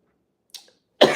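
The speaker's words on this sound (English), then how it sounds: "I have this urge to cough" A single short cough, close and fairly loud, preceded by a faint breathy catch, from a man sitting in his truck during a late-night livestream.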